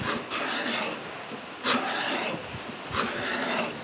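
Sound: card scraper made from old hand saw scraping wood

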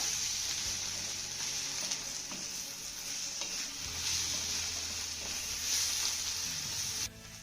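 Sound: stirring cooked bitter gourd from the bottom of the pan

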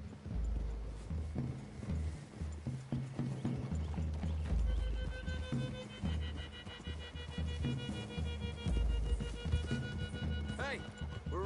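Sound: horses walking and whinnying

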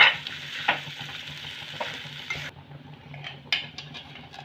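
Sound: mixing and mashing boiled potato with spices

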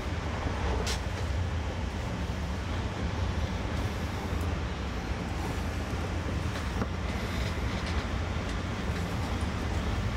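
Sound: train

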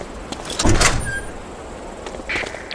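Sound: door being opened in video game Medal of Honor: Allied Assault

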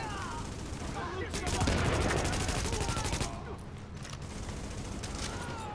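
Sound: gunfire from the video game The Division

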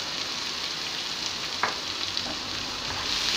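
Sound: chopped onions frying in a pan with cumin and curry leaves

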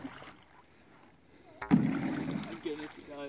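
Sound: splash of hitting the water beside a boat

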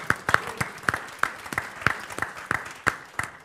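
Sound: audience applause at seminar

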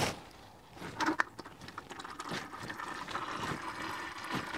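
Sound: Toyota transfer case fluid draining into catch can

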